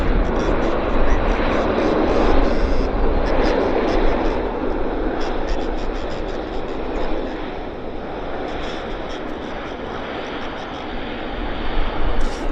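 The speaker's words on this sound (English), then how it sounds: "didn't want you guys to miss the Air France pulling into the gate" Air France airliner taxiing to the gate at Vancouver Airport, a loud continuous jet engine roar that stays steady throughout.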